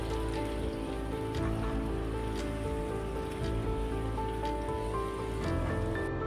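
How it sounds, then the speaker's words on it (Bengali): Marinated paneer pieces fry in white oil in a frying pan with a steady, dense crackle and sizzle up close. The sound holds at an even level throughout, with no talk over it. "এবার ফ্রাইং প্যানে আমি সাদা তেল নিয়েছি, সেই সাদা তেলে মাখানো পনিরগুলো দিয়ে দিচ্ছি।"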